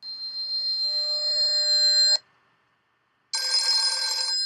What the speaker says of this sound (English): My phone rings and I can hear the other side of that conversation